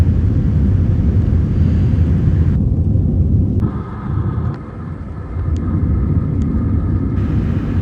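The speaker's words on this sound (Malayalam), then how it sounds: "നമ്മുടെ ഫ്ലൈറ്റ് ടേക്ക് ഓഫ് ആയിരിക്കുകയാണ്." Airplane taking off from Mumbai, heard from inside the cabin as a loud, continuous low engine roar with a brief dip midway and faint thin tones above it.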